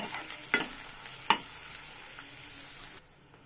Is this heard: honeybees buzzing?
no